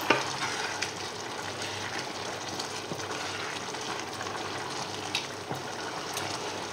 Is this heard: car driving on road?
no